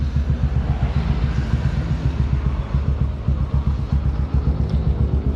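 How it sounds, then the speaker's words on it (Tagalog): A parked motorcycle idles as it warms up, its low engine rumbling close and steady with an even chugging pulse and no voices. "Pinapainit ko na lang yung makina niya"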